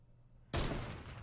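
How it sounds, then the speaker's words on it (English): A sudden loud burst of gunfire in the Fortnite video game breaks out of near quiet and continues as a dense, sustained rattle. "Take a couple shots over here"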